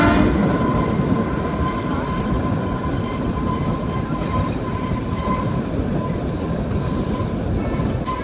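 A toy train rolling along the rails on the journey to Shimla, a loud continuous rumble and clatter of wheels with a faint steady squeal, heard throughout.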